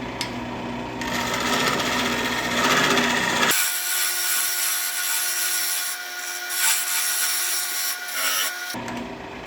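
Hand or machine shaping of wood to remove a taper from a stool part in a workshop, a loud continuous rasping, scraping run in two sustained passes with a brief break between.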